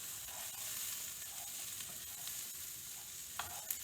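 Breakfast hash seasoned with oregano cooking in a pan, with a steady, soft sizzle hissing continuously and a couple of faint utensil clinks near the end.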